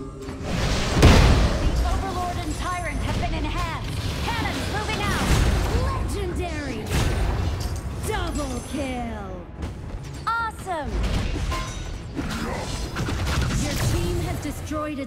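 Cannon fire in the mobile game Honor of Kings, heard as repeated booming blasts that mix with constant game effects, chimes and sweeping tones through a busy battle.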